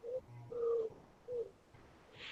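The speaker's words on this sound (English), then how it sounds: "I hear pigeons." Pigeons coo in several low, soft phrases, a few of them repeating in a loose rhythm at close range. No voices are heard over them.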